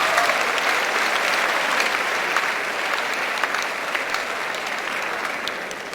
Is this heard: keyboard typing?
no